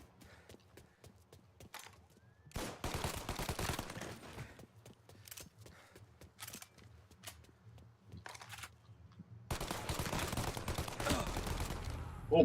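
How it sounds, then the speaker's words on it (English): Rifle fire in Mafia: Definitive Edition, loud sustained bursts of rapid shots in two main stretches with quieter gaps and a few isolated cracks between. "Tiro de rifle."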